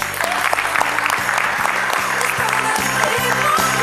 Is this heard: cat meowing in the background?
no